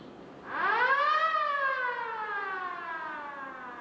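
A Wurlitzer theatre organ siren effect wails upward from a low growl to a loud, sustained pitch, then slowly slides back down as it winds off, with no voices.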